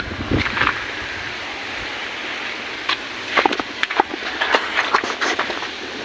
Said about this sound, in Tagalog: Sus, mahangin.